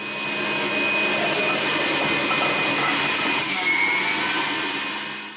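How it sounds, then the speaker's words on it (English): Countertop juicer running steadily as a whole peeled orange and a small piece of ginger are fed through, a loud continuous motor whine with a high-pitched tone, holding for about five seconds before easing off. "Now into a juicer, we're going to place in one whole orange, skin off. Then a centimetre piece of ginger."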